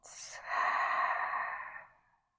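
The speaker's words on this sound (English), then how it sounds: "Find a full breath in and a slow breath out." A slow, deep breath drawn in and let out during a yoga class for stretching the hamstrings, one full inhale and exhale sighing out close to the microphone with no talk.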